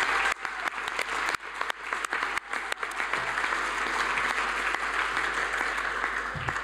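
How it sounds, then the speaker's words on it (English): A school presentation-day audience applauds the Sportsman of the Year, with a few sharp close claps at the start swelling into steady, continuous applause through the hall. "we'll give him a round of applause right now."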